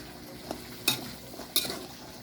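Long beans stir-frying in a pan with a gentle steady sizzle, broken by two sharp utensil knocks and scrapes as they are stirred.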